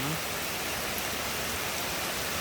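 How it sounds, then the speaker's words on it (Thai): Steady, even rain hiss at a hut in a Thai temple grounds, a constant wash of falling drops with no voices and no breaks. "และแล้วฝนก็ตกลงมานะครับผม"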